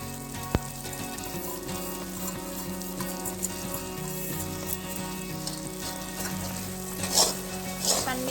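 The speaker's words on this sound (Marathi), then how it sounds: "त्यामुळे त्याला सारखं एक हलवत राहायचं आहे" A coconut vadi mixture is stirred steadily in a hot pan, with continuous frying sizzle and repeated spoon scrapes against the metal, close and moderately loud, with no talking.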